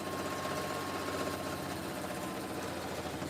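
A Singer heavy duty sewing machine runs steadily at close range, its motor giving a continuous, even mechanical whir with a faint rapid stitching chatter and no pauses.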